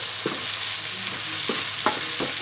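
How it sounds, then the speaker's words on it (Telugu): Mint is stirred into food frying in a pan, giving a dense, steady sizzle with several rhythmic scraping strokes from a spoon against the pan. It sounds close, with no voices. "తర్వాత పుదీనానైతే వేసుకోవాలి. అది మిక్స్ చేసుకోవాలి."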